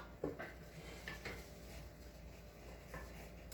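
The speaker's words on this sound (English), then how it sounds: "I'm gonna go ahead and throw these raspberries into this pot" Raspberries are tossed into a cooking pot with a few soft knocks and light clatters, close and quiet, against faint background noise.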